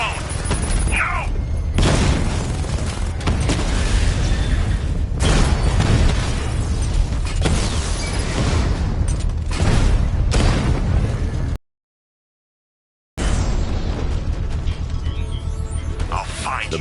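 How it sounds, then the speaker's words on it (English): Loud, dense bursts of explosions, booms and pops from a Batman video game, continuous and busy for about eleven seconds, then a brief silent gap before the blasts and rumble resume. "I can use the power winch to trigger a controlled explosion."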